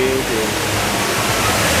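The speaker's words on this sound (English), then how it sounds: "It's like a centered circular waterfall." Large indoor man-made circular waterfall at Changi Airport in Singapore, heard as a loud, steady broadband rush of falling water filling the space, with no breaks.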